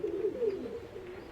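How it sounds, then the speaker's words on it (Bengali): Pigeons in a loft of a fancy pigeon collection coo continuously, a low throaty warble that swells and rolls without pause, close and moderately loud, with no voices over it. "অনেক সুন্দর সুন্দর কবুতর, আর অসংখ্য কবুতর আছে ভাইয়ার কাছে"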